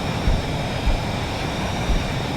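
A jet afterburner roars in the flight game VTOL VR, a dense, steady, loud rushing blast with low rumble pulses, continuous for the whole short stretch.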